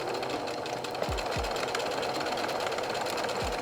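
Home sewing machine running a line of stitches on summer dress fabric, a steady continuous mechanical whir held close, with a few low thumps breaking through.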